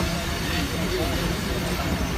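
A train pulls out of Saddar railway station in Karachi, Pakistan, its steady broadband rumble and rolling rail noise filling the scene continuously, with faint voices nearby.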